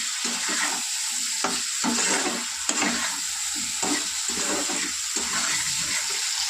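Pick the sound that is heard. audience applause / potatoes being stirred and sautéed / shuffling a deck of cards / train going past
potatoes being stirred and sautéed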